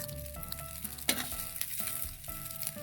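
Sinangag, Filipino garlic fried rice, sizzles steadily in a hot pan while being stirred, with scraping spatula strokes over the constant crackle; close and fairly loud, no talk.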